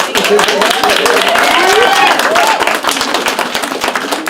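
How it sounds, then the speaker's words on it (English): Audience at an empowerment festival clapping for an artist, close, busy hand clapping mixed with cheering voices and crowd noise, loud throughout. "Clap it up. Clap it up."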